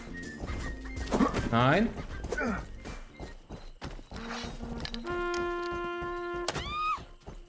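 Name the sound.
wounded horse hooves and whinny in a video game (Rustler)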